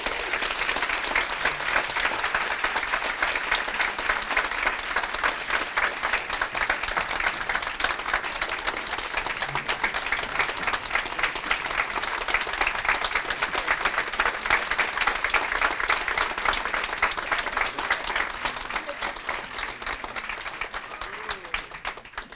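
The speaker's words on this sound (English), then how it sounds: "So please give them a round of applause and thank you again." An audience at an annual meeting gives a long round of applause, a dense and steady patter of many hands clapping that lasts over twenty seconds before starting to fade at the end.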